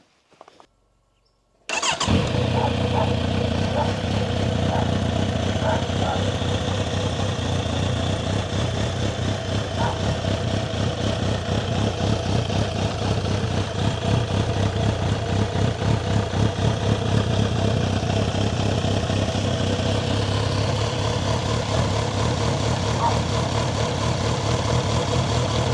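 A Kawasaki Z900RS motorcycle engine cranks and fires after a brief click, then settles into a steady, loud, close idle that continues without a break.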